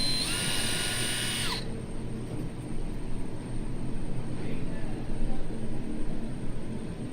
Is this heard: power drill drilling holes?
yes